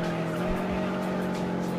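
Ford car racing in the video game Juiced, engine droning steadily with sustained tire squeal throughout, loud and continuous.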